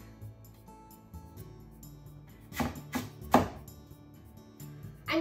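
A knife is pushed through a whole sweet potato to halve it, giving two or three firm, close-up crunching cuts and a thud on the board in the middle, with quiet kitchen stillness around them.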